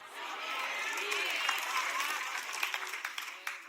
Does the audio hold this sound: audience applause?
yes